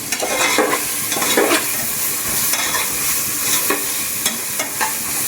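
Onions and spices sautéing and being stirred in a hot pan before tomato goes in, a steady close sizzle with repeated scraping stir strokes, no talk.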